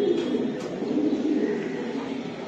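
Pigeons coo softly and continuously at a racing pigeon farm, a low, murmuring drone of several birds nearby with no talking.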